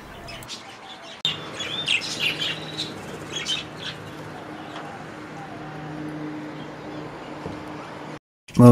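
Budgies and cockatiels chirping in a birdroom shelter, bright scattered tweets and calls over a low steady hum, fairly near and busy at first, then thinning out.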